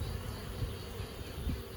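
Low, steady buzzing of honeybees around a hive, a continuous drone with a few louder passes close by, no voices.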